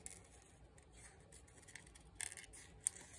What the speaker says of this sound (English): bear with me while I fussy cut these little guys out